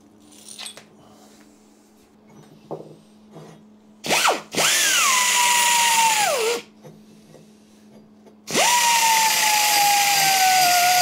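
A power tool trims off a fresh weld on a Royal Enfield bobber frame, running in two loud, sustained bursts that whine steadily and then wind down, with quieter shop clatter between them.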